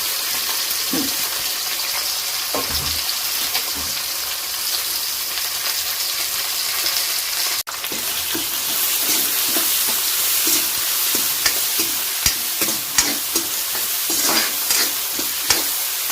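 A wild vegetable curry fries in a pan with ginger-garlic paste, garam masala and salt, a steady sizzle broken by the clicks and scrapes of a spoon stirring.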